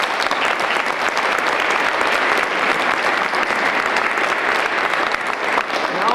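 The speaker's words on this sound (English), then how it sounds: "y'all, they deserve another round of applause" Steady, dense applause from a crowd at an Alabama government event launching Census 2020, continuous clapping at even loudness throughout.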